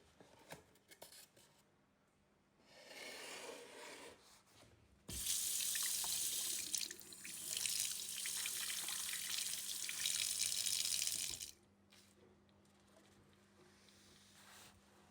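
Tap water gushes into a sink over a frozen golden apple ice lolly mould, a steady loud rush for several seconds between quieter handling noises before it shuts off.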